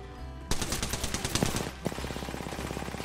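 Rapid automatic gunfire in Apex Legends, a fast regular burst of close, loud shots starting abruptly and continuing with a brief pause, no talking.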